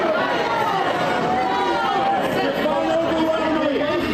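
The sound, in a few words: crowd reacting noisily at a congressional town hall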